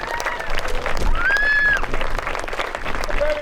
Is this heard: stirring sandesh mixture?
no